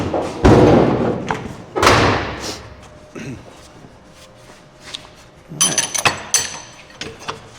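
Hammer blows on a steel exhaust header pipe for a 1951 Ford rat rod, a few heavy thuds close by at first, then a quicker run of sharper metallic taps and knocks.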